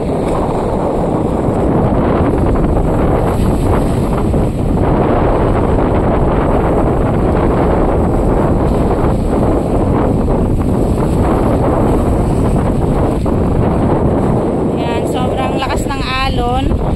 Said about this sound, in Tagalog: Ayan, lakas ng alon.